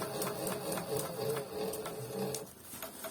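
An industrial bag-closing sewing head for big bags, driven by a Bruce servo motor, stitches in a rapid, steady mechanical chatter with faint rhythmic pulses, moderately quiet and close.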